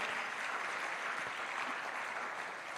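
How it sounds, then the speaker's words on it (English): An audience at a legal information portal launch in Jamaica applauds steadily, a dense even wash of clapping from many hands filling the room, sustained without pause. "Give yourselves a big round of applause for being an exceptional audience."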